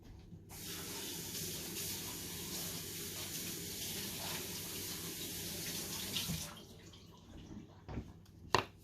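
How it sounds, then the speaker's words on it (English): Running tap water rinses dyed yarn in a kitchen sink, a steady close rush of water for about six seconds that then stops, followed by a few drips and knocks. "I'm going to rinse these out."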